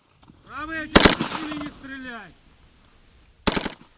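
Two short bursts of rapid AK-74 assault rifle fire during a defensive training exercise, one near the start and another a few seconds later, with a harmonic whine sounding between them.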